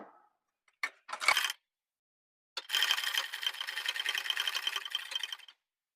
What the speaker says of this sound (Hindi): ऊपर की फ्लाई में हमें अब सिलाई लगानी है।